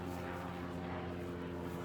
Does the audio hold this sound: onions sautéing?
no